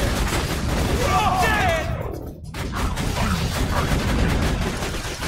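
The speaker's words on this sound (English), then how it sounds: "Who's firing at me?" Enemy gunfire in the video game Borderlands 2 rattles in dense bursts with booming impacts, loud and continuous, briefly dropping away midway before resuming.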